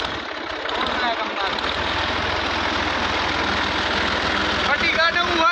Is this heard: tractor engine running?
yes